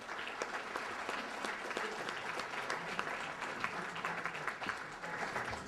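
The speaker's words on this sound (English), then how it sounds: "all of them, another round of applause." An audience at the Woodburn Distinguished Service Awards gives the local service clubs a sustained round of applause, steady and moderately distant clapping that runs the whole time.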